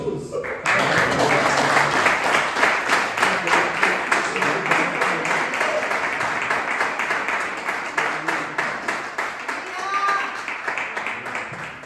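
Church congregation applauding in rhythmic unison, a sustained run of even claps with voices calling out over it and a brief sung or spoken phrase near the end.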